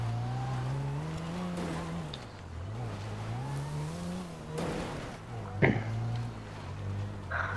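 Car driving down a mountain in GTA, engine droning and rising and falling in pitch as it revs, with a brief sharp knock partway through and people talking over it.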